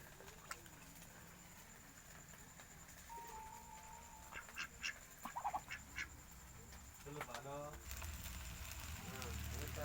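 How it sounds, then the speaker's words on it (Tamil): Ducks wait outdoors to be fed dosa and let out a run of loud, short quacks in the middle and near the end, with softer calls and faint background voices around them. "வாத்துங்க கூட வெயிட் பண்ணிட்டு இருக்கு இந்த தோசைக்காக."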